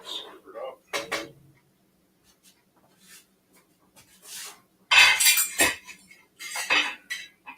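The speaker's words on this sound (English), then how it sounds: "Grab a bowl here. Stir it up." A spoon stirs and clinks against a bowl of beef barley soup, with bursts of scraping and knocking near the mic and quiet gaps between.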